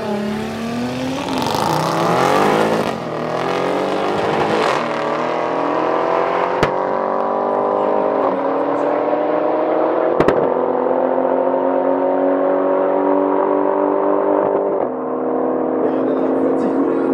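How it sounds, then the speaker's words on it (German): A V6 turbo race car at roughly 260–275 km/h during the Race 1000 at Neuhardenberg, its loud engine note holding steady and slowly climbing through a long, continuous high-speed run with no talk. "der Lauf hört sich gut an, der V6-Turbo läuft"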